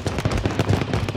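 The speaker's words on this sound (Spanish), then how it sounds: "escuché los tiros del tren" Rapid bursts of gunfire crackle in quick succession, dense and punchy, like sustained shooting in the game Warzone.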